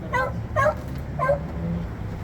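Rescue dogs on a road trip let out three short, close yips or whimpering barks spaced about half a second apart, then go quiet over a low rumbling background.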